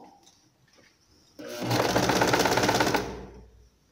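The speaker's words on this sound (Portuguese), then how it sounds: "Eu só deito o tecido e continuo costurando aqui" An electric sewing machine stitching fabric while adjusting a blouse shoulder runs in one rapid, buzzing burst of about a second and a half, starting abruptly and stopping after a quiet lead-in.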